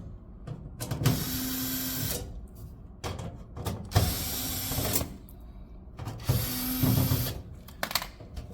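A power screwdriver removes the four screws holding the back panel on a motor housing in three separate bursts of whirring, each about a second long, close by, with small clicks and handling noise between them.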